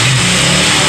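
A KTM Duke 200 BS6 motorcycle with a fluctuating-idle fault runs loud and close, its engine revving in a brief sustained roar.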